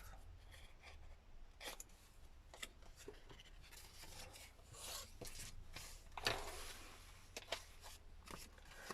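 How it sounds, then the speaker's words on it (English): Chunky scissors snipping paper pages for a junk journal, a series of short close crisp cuts and rustles spread across the stretch, fairly quiet. "Coming with chompy scissors."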